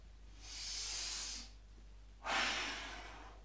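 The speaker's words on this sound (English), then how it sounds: "and breathe in." Audible breaths close to the microphone during a squat exercise, one long airy breath followed after a short pause by a stronger, sharper one.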